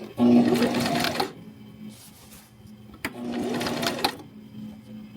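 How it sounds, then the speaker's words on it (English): A sewing machine stitching elastic onto an abaya runs in two close, steady whirring bursts separated by a brief pause. "So you just want to sew this elastic down."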